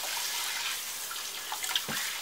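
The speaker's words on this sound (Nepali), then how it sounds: "कोदो पनि यस्तो सफा हुने गरी धुनुपर्छ" Finger millet being washed in water to make tongba, a Nepali millet brew, with a steady close wash of splashing and sloshing water and a few brief louder splashes, no voice over it.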